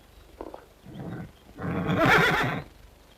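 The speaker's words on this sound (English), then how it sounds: "Oh, that's a mighty inconsiderate way to leave a horse, Mr. Noble." A horse in a 1957 television western whinnies loudly and close, a long shrill neigh following a few shorter snorting sounds.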